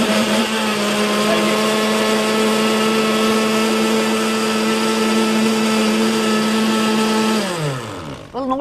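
A kitchen blender purees spinach with eggs for pasta dough, a loud steady whir running alone for several seconds before the motor winds down and stops.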